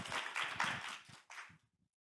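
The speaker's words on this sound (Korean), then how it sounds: "최일우 사선생님을 박수로 맞이해 주시기 바랍니다" An audience at a library humanities workshop claps to welcome a librarian presenter, a brief, moderately quiet burst of applause that thins out and stops after about a second and a half.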